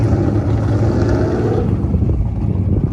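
A Ford Mustang accelerating hard from a launch at a race event, with a deep, loud engine roar building and then settling into a steady drone as it pulls away, no voices over it.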